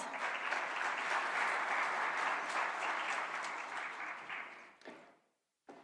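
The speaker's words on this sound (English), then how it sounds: "Let's give him a round of applause." A crowd claps steadily for several seconds, the applause thinning and fading out, followed by a brief pause and a short sound.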